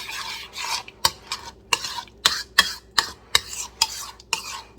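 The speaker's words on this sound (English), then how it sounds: "Let me get a spoon just to mix everything" A spoon mixing salsa in a bowl: repeated sharp scraping clinks at a steady rhythm, about two per second, between softer wet swishing strokes, close and moderately loud with no talking.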